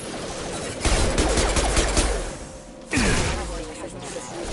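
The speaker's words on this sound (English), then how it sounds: "Shoot them before they take out the shields." Gunfire from hostile mechs in Mass Effect 2, loud bursts of rapid automatic fire in two sustained volleys with whooshing energy sounds between, under game dialogue.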